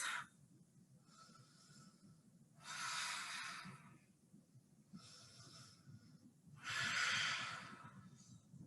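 Deep breathing during a yoga class: about five slow, airy inhales and exhales alternate in a steady rhythm, close but quiet, over a faint low background.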